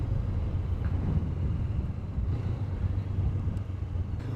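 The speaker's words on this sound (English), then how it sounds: "the stock exhaust that comes with this bike is far from that" Stock exhaust of a Honda CBR500R motorcycle giving a low, soft and steady rumble, fairly quiet and muted, with no voices over it.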